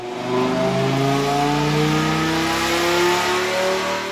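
An 8-liter V10 engine with a big lumpy cam revs hard on a dyno, a loud sustained harmonic roar that climbs in pitch across the pull, close and without talk.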